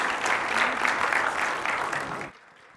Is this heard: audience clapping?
yes